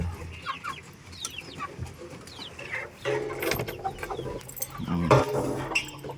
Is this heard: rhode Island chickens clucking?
yes